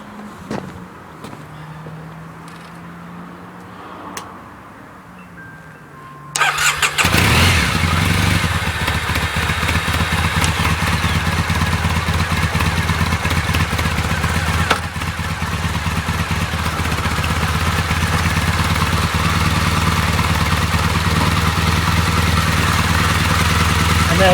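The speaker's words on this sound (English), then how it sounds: "And the engine's running perfectly, so job done." A Triumph Bonneville motorcycle sits quiet with faint clicks, then its engine fires up abruptly and keeps running loud and close with a steady, rumbling, slightly clattery idle.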